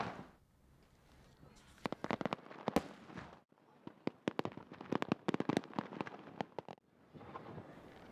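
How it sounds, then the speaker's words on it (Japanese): Fireworks burst over a beach festival along a roughly 4 km stretch of sand in Takahama, with sharp cracks and booming reports arriving in dense, irregular volleys that alternate with short lulls, loud and fairly close. "人気の花火大会です。"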